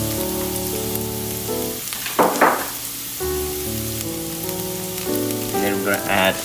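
Garlic dropped into a heated pan for Jjapaguri ramen with steak crackles in two short, bright sizzling bursts over steady background music.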